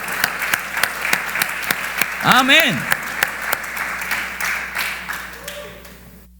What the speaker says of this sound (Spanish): si va a aplaudirle a Dios, hágalo como Él se lo merece